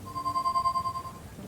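A phone in the Leisure Suit Larry video game rings with a steady electronic warble that repeats rapidly for about a second and then stops. A low rumble sits under it, and nobody speaks.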